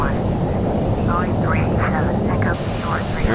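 Airplane in Flight Simulator X on a flight from Yakima to Seattle, passing close by Mount Rainier, with a loud continuous engine drone throughout and a voice talking over it.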